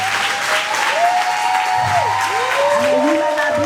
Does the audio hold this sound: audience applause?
yes